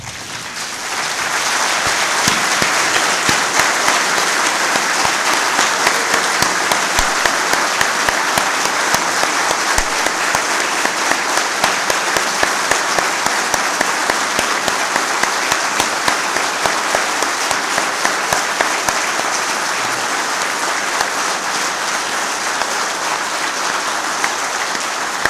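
Sustained standing ovation from members of both chambers of parliament, dense loud clapping that swells in within the first seconds and holds steady throughout without pause.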